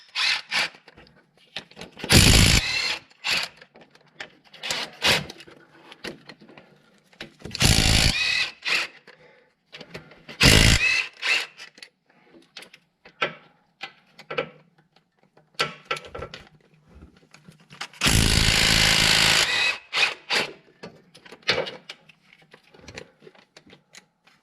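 A cordless impact wrench with a long extension and an impact swivel socket removes the front cover bolts on a 2014 Ford Explorer engine. Several loud, rattling bursts of varying length are separated by quieter clicks and handling noises.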